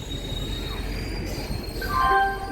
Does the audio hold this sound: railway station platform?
yes